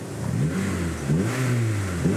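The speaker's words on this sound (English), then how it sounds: "I'm going to give it a little rev so that you can hear." A 2002 Honda Civic Type R's K20 engine idles and is blipped in a couple of quick revs, the pitch rising and falling with a loud, close, smooth four-cylinder note.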